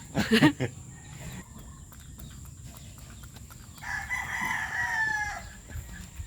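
A rooster gives a loud nearby crow at the start, then clucking hens and another drawn-out crow follow over a quiet farmyard background at a chicken breeding yard.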